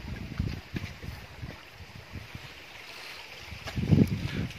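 Irrigation water runs into a banana field in Sindh, Pakistan as a worker shuts the flow on one side and opens it on the other, giving a low continuous gurgling rush with louder surges, near and without talk.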